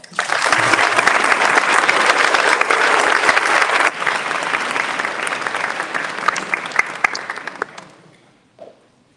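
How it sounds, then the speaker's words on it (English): Audience applause at the Green & White Awards, a dense, loud burst of many hands clapping that holds steady for several seconds before thinning out and fading to a few last claps. "can we please give them a round of applause?"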